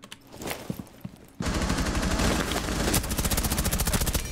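Gunfire in Rainbow Six Siege: a few scattered single shots, then a sudden loud sustained burst of rapid automatic fire that keeps a fast steady rhythm to the end.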